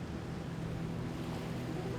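Ocean waves wash steadily near a village in the video game No Man's Sky, a constant, even surf roar with no breaks.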